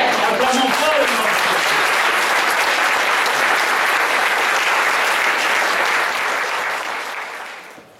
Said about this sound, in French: Acclamons fort le nom de Jésus.